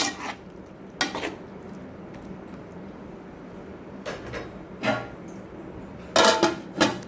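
A spoon scrapes and stirs chicken masala in a cooking pot for chicken kulambu. The soft, intermittent scraping and clinks come over a steady low background hiss.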